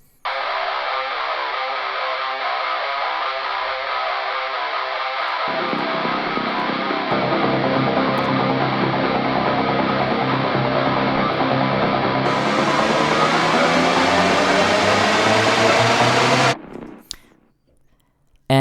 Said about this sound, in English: And that is to be layered with this lo-fi guitar sound right here.